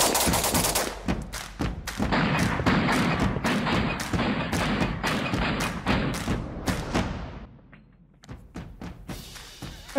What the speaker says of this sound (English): that was my very first time shooting with the binary trigger, and boy, that was fun and fast